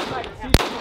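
A single sharp gunshot at a shooting range cracks out, close and loud, in a brief moment otherwise filled with low background noise.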